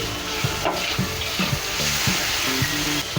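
Ginger paste and spices fry in hot oil for an egg tadka, a loud steady sizzle with rhythmic stirring knocks of a spoon against the pan.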